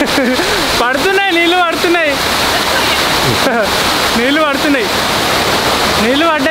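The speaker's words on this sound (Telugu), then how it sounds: "నీళ్ళు పడుతున్నాయి మీద నీళ్ళు పడుతున్నాయి." A water fountain on Red Square in Moscow sprays and splashes down in a steady, loud rush, with people talking and calling out over it throughout.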